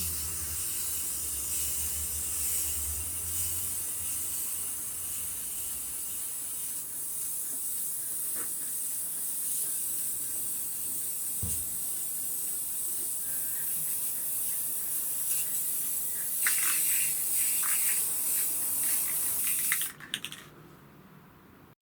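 A spray gun lays clear coat on a pinball playfield with a steady, close airy hiss that runs almost unbroken before cutting off near the end.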